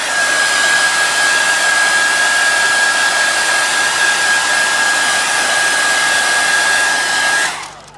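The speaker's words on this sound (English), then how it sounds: "I'm going to use a hairdryer." A hair dryer blows steadily and loudly, set to drying freshly applied paint on a pewter-finish base, its whine holding constant for about seven seconds before cutting off at the end.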